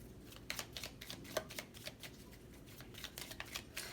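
Tarot cards drawn from a deck: a quiet run of crisp card flicks and shuffling snaps, close and soft, with no talking.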